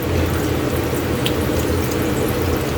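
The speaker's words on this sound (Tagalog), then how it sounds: "Yan, dagdagan pa natin ng tubig" Water pours steadily into a cooking pot while sotanghon guisado is being made, a continuous splashing stream heard up close with no talking.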